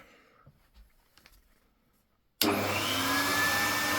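Near-silence with a few faint clicks, then a motor with dry bearings suddenly starts and runs loud and steady with a rushing roar and a rising whine.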